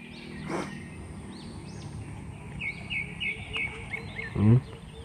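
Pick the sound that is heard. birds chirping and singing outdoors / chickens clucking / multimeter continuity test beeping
birds chirping and singing outdoors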